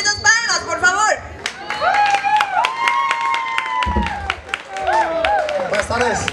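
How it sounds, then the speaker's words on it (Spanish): Audience clapping for a contestant at a live talent event in Cotaxtla, bursts of claps mixed with crowd noise while music with a singing voice and talk carry prominently over them. "¡Que se escuchen esas palmas, por favor!"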